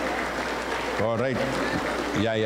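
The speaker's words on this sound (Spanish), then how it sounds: "aplauso para el Señor Jesús" A church congregation applauds the Lord Jesus during a Spanish-language service, with steady, broad clapping throughout and someone speaking over it.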